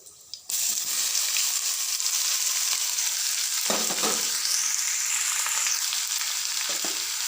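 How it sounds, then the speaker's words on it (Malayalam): Masala-coated small anchovies dropped into hot coconut oil in a clay pot with shallots and curry leaves, bursting into a loud, steady sizzle after a brief clatter, with occasional scraping stirs, no voices. "അരപ്പ് വരട്ടി വെച്ച നെത്തോലി."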